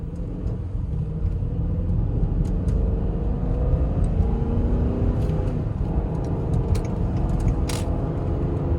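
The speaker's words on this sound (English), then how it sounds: "let's take this for a quick little test drive" A 2006 Range Rover L322 on a short test drive, heard from inside: steady loud engine and road rumble throughout, with faint clicks and ticks over it and no talking.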